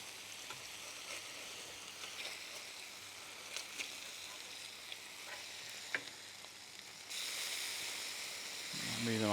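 Smash burger patties fry on a hot griddle with a steady broadband sizzle, a few sharp scrape clicks as a spatula flips them, and the hiss swelling louder near the end.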